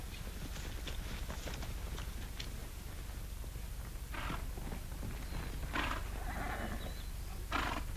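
Horses move about on the ground, giving soft, irregular hoof clops and shuffles at a moderate distance, with a few brief bursts of other noise and no clear voices.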